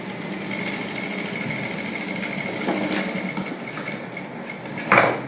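A sewing machine stitches a sleeve onto a princess-cut blouse, giving a steady mechanical whirr at close range throughout, with a brief louder clack near the end and no talking.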